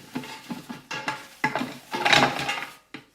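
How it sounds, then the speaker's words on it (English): Chopped vegetables dumped into a big stock pot for vegetable broth, a series of clattering, rustling drops and knocks against the pot, close and fairly loud, with no talking. "I'm dumping all of these vegetables into this big stock pot"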